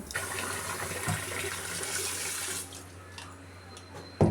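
Millet grains are washed under running water, which splashes steadily for a couple of seconds and then eases to a quieter trickle. A sharp knock ends the sound, with no speech.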